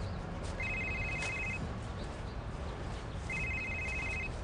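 A mobile phone rings in two electronic bursts of repeated beeping tones, each lasting about a second, separated by a pause, over a faint steady background.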